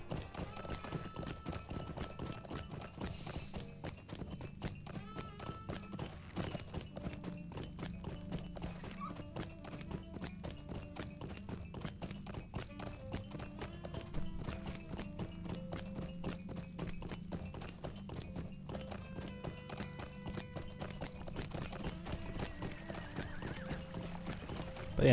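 Steady, even clip-clop of horse hooves while riding in the online game LOTRO (Lord of the Rings Online), a continuous rhythmic trot at a constant level throughout with no talking.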